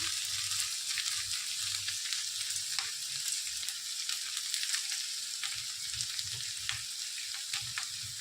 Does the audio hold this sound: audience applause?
no